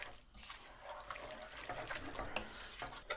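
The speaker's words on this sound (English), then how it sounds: "So 400 milliliters of water goes in." Water pours into a cooking pot for a base curry sauce, a short trickling splash heard close up in a home kitchen, with no talking.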